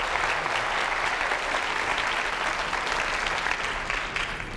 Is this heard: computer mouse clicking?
no